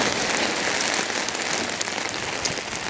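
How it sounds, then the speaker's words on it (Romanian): Heavy rain falls steadily throughout, a dense continuous patter on surfaces at a pond while fishing for crucian carp, loud and unbroken with no voices. "O, ce ploaie. Uite ce ploaie."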